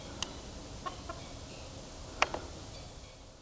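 Chickens on a Texas ranch let out a few scattered clucks and short calls, one louder burst standing out midway, over a faint, steady outdoor background.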